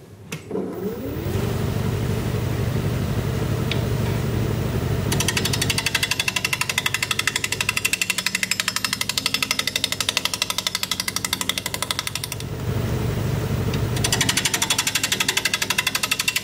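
A wood lathe turns a maple bowl blank at about 700 RPM, giving a steady, loud mechanical hum and rumble with a gouge chattering against the spinning wood throughout, and no talking.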